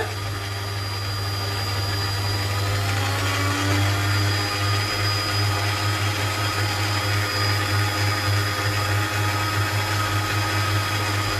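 Electric hand mixer whirring steadily as it beats eggs into choux pastry dough for chouquettes, a continuous motor drone close by with slight speed variation as it speeds up, no talking.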